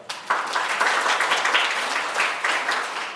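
An audience at a high school admission briefing in Daegu's Buk-gu district breaks into warm applause, a dense steady patter of many hands that carries on for a few seconds without talk.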